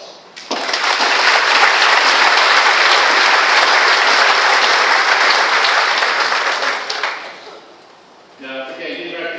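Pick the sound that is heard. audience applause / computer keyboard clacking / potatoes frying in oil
audience applause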